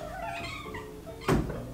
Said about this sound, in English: My cats are fucking knocking at the door.